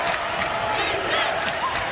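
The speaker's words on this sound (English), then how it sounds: "This crowd is awfully loud" Loud crowd at a college basketball game between Oregon State and UCLA, a dense continuous roar of shouting and cheering with no break, sustained at high level throughout.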